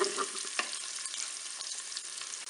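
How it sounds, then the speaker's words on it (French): Lardons browning in a Cookeo multicooker pressure cooker give a steady close crackling sizzle with a faint stir or scrape partway through; nobody talks. "je vais encore laisser une petite minute pour bien dorer mes lardons"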